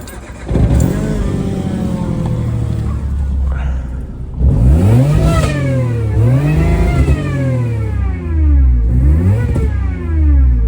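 A supercharged Citroen C1 on a rolling road dyno revs hard and close, its engine note climbing sharply several times in a row, dropping and rising again in loud, repeated pulls.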